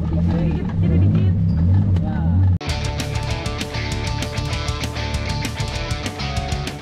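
An off-road car drives through a shallow river with a rocky bed, its engine droning loudly with a brief cut midway before a harsh, rumbling engine note resumes, mixed with splashing and people talking.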